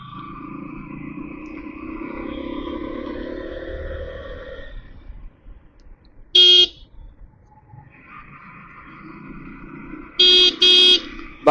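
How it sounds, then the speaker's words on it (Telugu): Cars climb a steep mountain road on the route to Araku, engines droning and revving uphill, with a few sharp horn toots cutting in as they pass close by. "కార్లు అయితే ఈజీగా ఎక్కుతున్నాయి పైకి"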